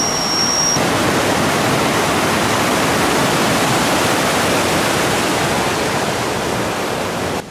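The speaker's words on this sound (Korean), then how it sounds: "여기서 폭포 구경 좀 하다가 돈댓으로 돌아갈게요" Waterfall at Si Phan Don in southern Laos, a loud, dense, unbroken roar of rushing water close by, constant throughout with no voices.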